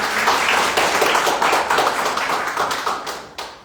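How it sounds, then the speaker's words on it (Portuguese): A church congregation applauds during a service, giving a dense, steady wash of many hands clapping together that stays fairly loud and even before thinning slightly near the end. "Vamos dar uma salva de palmas para o Senhor"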